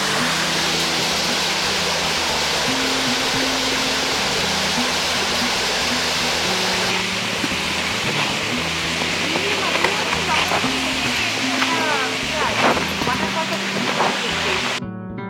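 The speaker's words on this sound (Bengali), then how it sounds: "জঙ্গলের ভেতরে পাহাড়ের কিছুটা ওপরে ছোট্ট সুন্দর একটি ঝর্ণা, কালিয়াম্বা জলপ্রপাত" Kaliamba waterfall on a hillside in the forest, a steady broadband rush of falling water, continuous and fairly loud, with a voice talking over it in the second half.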